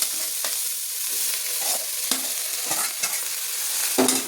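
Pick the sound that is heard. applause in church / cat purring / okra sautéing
okra sautéing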